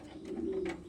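A pigeon gives a short, close cooing call that hums low and steady for under a second, alone with no talk.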